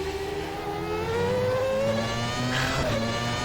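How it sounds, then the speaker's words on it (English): A Formula 1 car engine in the racing game rFactor 2 at Zandvoort revs and whines, pitch sliding down then climbing, steady and close with a brief whooshing sweep near the end. "Oh, if only F1 cars sound like this."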